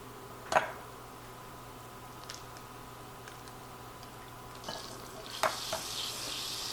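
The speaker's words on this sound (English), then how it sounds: "my butter is sizzling" Faint sizzling in a pan, broken by a few sharp clinks and scrapes of a utensil, with no talking.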